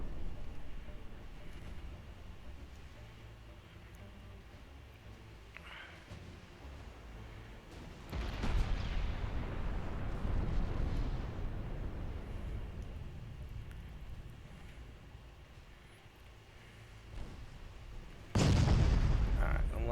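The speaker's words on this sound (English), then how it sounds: "let's have the secondary gun shoot at whatever that is" Naval artillery gunfire from warships in the naval strategy game Ultimate Admiral Dreadnoughts, with a heavy rumbling boom rolling through the middle and a sharper loud blast near the end over steady low background noise.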